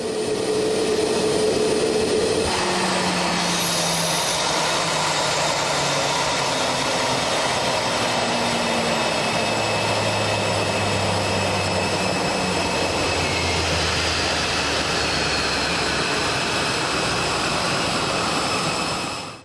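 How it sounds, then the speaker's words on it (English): A CFM LEAP-1A jet engine on an Airbus winds down during shutdown at the apron, its whine falling in pitch while a steady hiss of pressurized air from the variable stator and bleed vanes holds loud and close throughout. "during the engine's shutdown sequence, you may hear a pressurized air noise"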